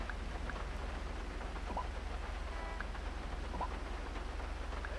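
Steady, soft rain in GTA 5 with a constant low rumble underneath and occasional faint drips or taps, no voices.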